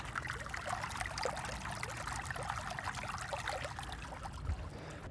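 Water flows gently near Altit Fort in Hunza, a soft, continuous trickling stream heard up close with no voices over it.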